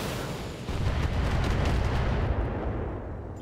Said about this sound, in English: Bunch of those missiles connected.